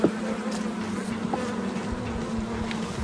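A swarm of thousands of honey bees, heard as a steady, dense buzzing drone close by that holds at an even level throughout, with no voices.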